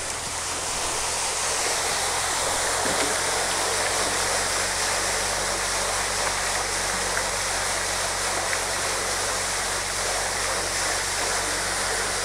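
A 3 HP solar-powered Pluto pump with a 30-metre head pours water in a steady, continuous rushing stream, close and dense, with no talk over it.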